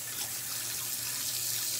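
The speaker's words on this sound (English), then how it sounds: "So go ahead and rinse your fingers off." Steady stream of water from a tap running into a sink as fingers are rinsed, close and continuous with no talking.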